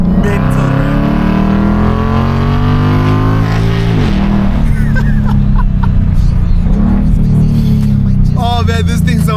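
A nitrous-fed Mustang drift car revs hard and loud nearby, its engine note climbing and falling in repeated sweeps with a rough, raspy exhaust and no voices over it.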